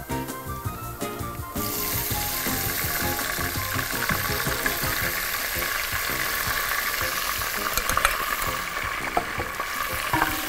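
Garlic frying in oil on a stovetop, with vinegar poured in and stirred, a bright, steady crackling sizzle that jumps in intensity after the first couple of seconds and keeps hissing, with scraping stir sounds near the mic.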